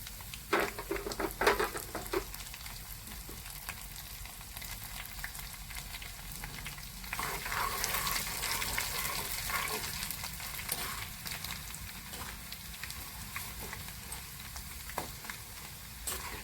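Garlic frying in hot oil for village-style mango pickle, giving a steady broadband sizzle with a few stirring knocks early on, moderately loud and close.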